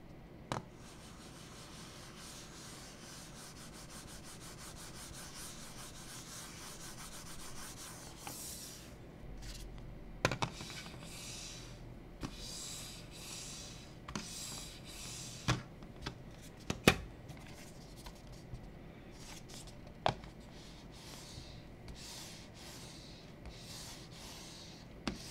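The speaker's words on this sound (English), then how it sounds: "throw some dot skates on here, these corner skates, and we'll even do a set of larger skates so you can see what the surface will sound like" Mouse fitted with dot and corner skates glides across a GLSSWRKS Kazemi glass mouse pad, giving a faint, steady rubbing hiss with occasional soft clicks and taps, quiet and close.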